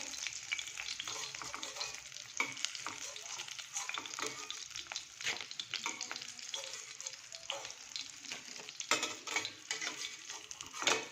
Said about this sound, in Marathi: आता आपली कोलबी दोन्ही साडून व्यवस्थित फ्राय झालेली आहे